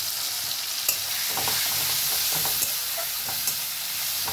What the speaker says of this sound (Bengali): পেস্ট করা মশলাটা দিয়ে দিলাম।